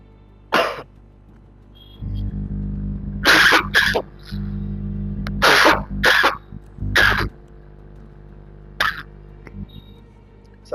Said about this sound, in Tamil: சாரி கைஸ், கொஞ்சம் இருமல் அதிகமா இருக்கு.